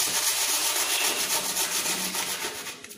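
Lovebird food ingredients being mixed by hand, a close, dry rustling and rubbing that continues steadily for a few seconds, with no talk.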